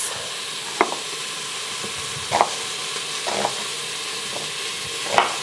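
Beef searing in a hot pan for homestyle short ribs, a steady loud sizzle with a few sharp scraping and stirring knocks spaced through it.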